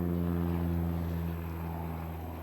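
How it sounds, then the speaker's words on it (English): Helicopter flying over a cross country race course, a steady low rotor and engine drone holding at constant loudness throughout, with no talk over it. "Yeah, there's a helicopter."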